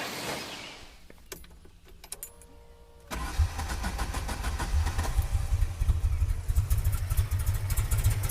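Opel GT with Weber DCOE carburetors, flooded, cranking over in short bursts and then firing up into a rough, loud running engine close by, with no talking.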